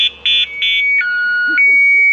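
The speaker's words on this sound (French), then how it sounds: "Ça c'est l'inconvénient d'avoir le klaxon au volant quand on passe le bras." An expedition truck's steering-wheel horn blares accidentally in a few short loud honks, then a longer tone that carries to the end with faint background sounds.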